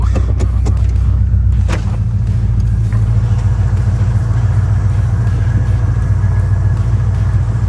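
A Saleen XP8 rumbles steadily while cruising with the windows down, its engine drone loud and close throughout, with no talking.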